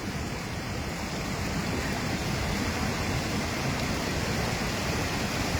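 Flood water rushing from a broken canal in Sawai Madhopur, a loud continuous roaring wash of turbulent water, steady and close throughout with no speech.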